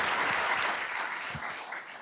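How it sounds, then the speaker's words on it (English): Sustained applause from an audience at a city council meeting, a dense patter of many hands clapping steadily for two seconds and fading slightly at the end. "You can still clap for them, it's okay."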